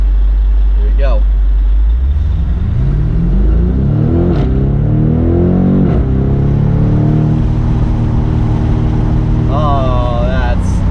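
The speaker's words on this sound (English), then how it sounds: "now we're gonna put it back into Sport Plus, and we'll accelerate at this light" A 2020 BMW M850i Convertible pulls away hard from a light in Sport Plus mode. After a deep idle rumble the engine surges and rises through several gear changes, loud and close, with brief upshift blips.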